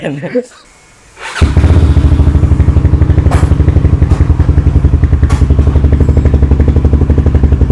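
After a brief pause, a Yamaha Scorpio 225 motorcycle engine fires up and settles into a loud, steady, rhythmic idle, with speech heard at the start.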